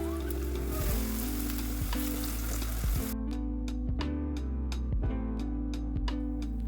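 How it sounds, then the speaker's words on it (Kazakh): Cheese balls sizzle steadily in hot oil, a continuous close crackling fry with faint background sound and no talk. "Ал енді қызып тұрған майға саламыз, екі беті қызарғанша күтеміз."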